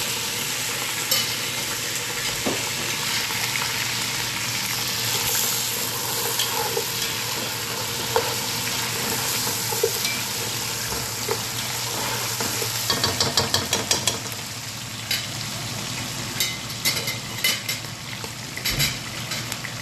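Onions frying in a pot, a loud continuous sizzle close by with occasional scraping stirs that grow more frequent toward the end, no voices.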